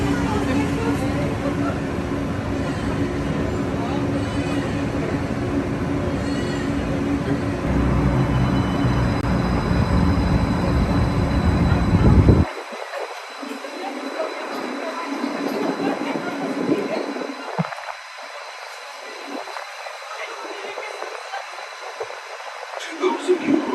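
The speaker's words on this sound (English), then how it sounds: "welcome aboard the Disneyland Monorail" Aboard the Disneyland Monorail, the car hums and rumbles with rising motor whine and wheel noise, then cuts to a quieter cabin with soft clatter, and a voice speaks over it in places.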